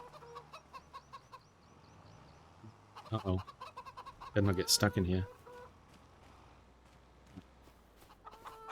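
Chickens in Farming Simulator 25 cluck and squawk in bursts, loudest in the middle, close by, with a person talking over and between the clucks.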